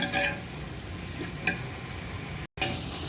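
Ginger, garlic and onion sautéing in a pan, a steady close sizzle broken by a few spoon stirs and scrapes and a brief cut near the end, with no talk.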